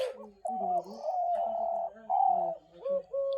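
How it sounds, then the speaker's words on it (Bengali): Pet birds call during extreme cold, with a close series of tonal, cooing calls in short phrases separated by brief pauses. "তো দেখতেছেন তো কীরকম ডাকাডাকি করতেছে।"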